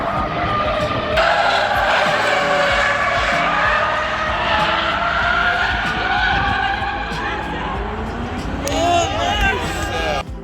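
A race car on track during a track day at Interlagos circuit, its engine roaring steadily and loud with tyres skidding and squealing, a crowd murmuring faintly behind.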